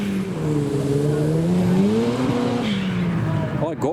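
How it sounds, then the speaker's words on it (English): A lowered Castrol-liveried Honda Civic leaving a car show revs loudly nearby, its engine note climbing and falling steadily for several seconds before cutting off. "I want some turbo noises from the Castrol Civic."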